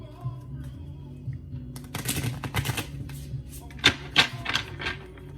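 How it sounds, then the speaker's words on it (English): Quick papery riffling bursts of cards being shuffled, a few crisp flurries close by, with a low hum of background music underneath. "I'll do one more shuffle."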